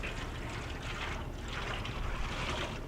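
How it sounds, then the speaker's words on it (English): Water spraying and washing off a barbecue smoker grate, a continuous even rushing hiss at moderate level with no break. "This is where you get to wash off that grate."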